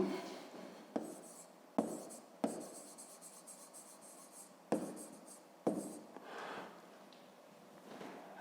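A pen writing on paper while working a fifth-grade maths exercise, close and quiet, with scratchy strokes broken into separate bursts by short pauses and a few sharper taps where words begin.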